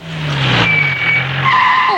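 A car brakes hard with tyres skidding and squealing in a loud, sustained screech that slides in pitch, close by, with no speech.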